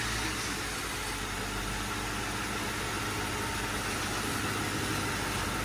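A 1972 Ford F100 with no exhaust idles nearby, a steady, rough, broadband engine rumble that holds constant with no revving.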